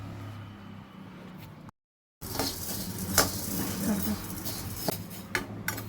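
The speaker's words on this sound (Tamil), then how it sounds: "இப்போது உளுந்தை நல்லா வறுத்து எடுக்கலாம்" Black urad dal being dry-roasted in a pan for sweet laddus, with a steady gritty rustle and scattered scraping clinks of a spoon stirring, after a short silent break.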